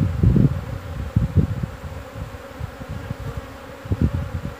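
Honeybees buzzing around frames of an open hive during a swarm-and-split merge, a dense low drone with bursts of louder nearby buzzing and faint rustling, no voices.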